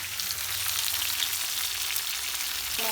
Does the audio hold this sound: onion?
yes